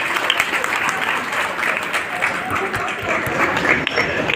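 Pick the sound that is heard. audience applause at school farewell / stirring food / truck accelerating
audience applause at school farewell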